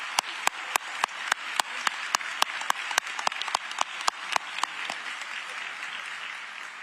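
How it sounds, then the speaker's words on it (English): Applause for newly graduated police officers at an academy graduation ceremony, with many sharp, rhythmic claps standing out over a steady crowd clapping wash that slowly fades toward the end. "Please join me in giving them all another round of applause."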